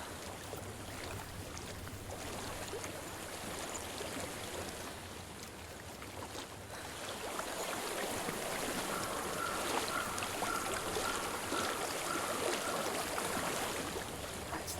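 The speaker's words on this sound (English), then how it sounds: "I hear water." Flowing stream water in the video game Hellblade rushes steadily as a broad, constant wash, growing louder and fuller midway as the water gets closer, with no talking.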